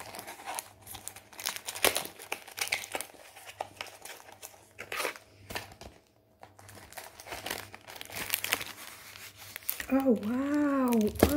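Plastic packaging of a 20 by 20 diamond painting kit from Action being torn open and crinkled, with steady rustling and crackling under a person talking, ending in a brief sung or tonal voice.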